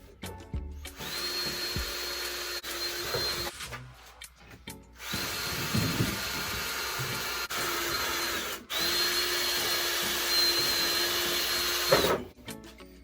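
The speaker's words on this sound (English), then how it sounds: "Alright, so I got our holes pre-drilled." A power drill bores holes in wood for a blanket ladder, three loud sustained whining runs separated by brief stops and clatter.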